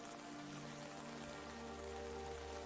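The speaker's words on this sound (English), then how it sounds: "Outside, the rain continues falling softly on the windows." Soft rain falls on café windows as a steady, even patter and hiss that runs unbroken throughout, with no voices.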